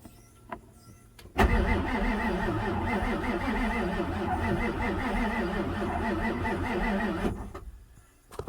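A 1994 Ford F450 with a 7.3 turbo diesel cranks without catching, a steady rhythmic churning of the starter that runs loud and close for about six seconds before dropping away.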